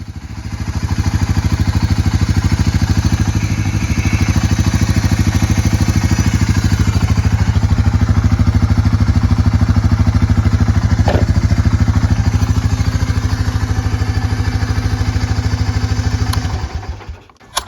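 A Honda Fourtrax ATV, newly restarted after its battery had been wired backwards, idles steadily up close in a loud, even mechanical drone with a low clattering throb, holding for some seconds and then cutting off at the end.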